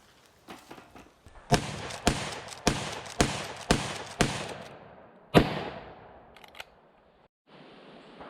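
Rapid outdoor rifle fire from a pre-64 Winchester Model 94 in .32 Win Special with 165 gr FTX bullets: six or seven sharp, loud reports in steady rhythm, then a final shot and faint mechanical clicks.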